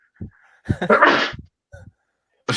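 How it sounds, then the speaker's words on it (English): A single loud sneeze bursts out after a short sharp inhale, followed by a few breathy sounds and quiet pauses. "I'm about to sneeze."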